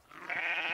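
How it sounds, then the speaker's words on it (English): A small brown sheep in the video game Book of Travels gives a single short bleat, clear and alone. "Ooh, little brown sheep."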